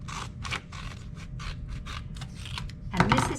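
Scissors cutting brown and purple paper circles in half for a hedgehog craft: a close series of crisp snipping crunches in quick irregular rhythm, each cut a short papery rasp, with no talking.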